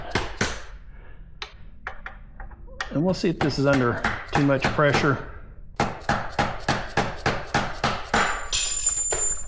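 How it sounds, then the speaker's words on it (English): A dead blow hammer strikes metal in steady, repeated knocks, close and sharp, knocking out a bolt during a motorcycle fork and rear shock install; someone talks briefly between the blows. "Got a little dead blow hammer in here so I can reach up in this area."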